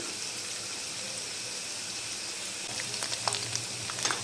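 Chicken mini kebabs frying in oil over a medium flame, a steady dense sizzle throughout with a few sharper crackles and pops near the end.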